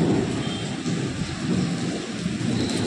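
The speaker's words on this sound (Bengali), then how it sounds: "দেখো মেঘের গর্জন" Heavy, steady rain falls with deep thunder rolling underneath, a dense and continuous wash of sound with no voices.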